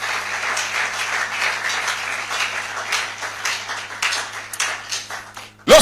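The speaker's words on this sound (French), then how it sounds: "Est-ce qu'on peut acclamer le Seigneur?" A church congregation at a Sunday service applauds steadily, a dense roomful of clapping that swells and dips for several seconds before a brief louder sound at the end.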